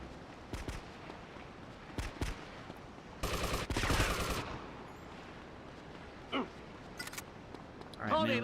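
Uzi gunfire in GTA: Liberty City Stories: scattered short bursts of sharp shots, with one longer, louder spray of automatic fire in the middle, amid quieter game sounds.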